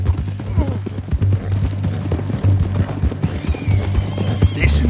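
Horse hooves clip-clop in a steady trot in the video game Red Dead Redemption 2, close and rhythmic, with game voices talking over them and a faint gunshot-like thump in the background.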